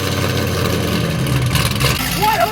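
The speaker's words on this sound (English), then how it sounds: "Let's hear what that exhaust system sounds like" A 600 hp Chevrolet Camaro SS V8 idles through its loud exhaust, a close, rumbling, uneven burble with slight swells, while people talk briefly near the end.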